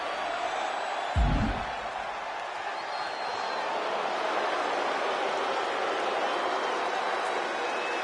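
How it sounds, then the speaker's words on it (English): A wrestling arena crowd at a televised Raw event cheers in a steady, broad roar that fills the whole stretch, with a brief low thump near the start. "The crowd is happy to see his answer."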